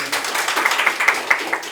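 An audience claps for three speakers at a Seoul National University policy forum on national crisis management and defense security. The claps are fairly sparse but steady and rhythmic, moderately loud, with no talk over them.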